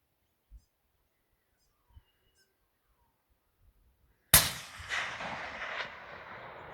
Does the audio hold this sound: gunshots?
yes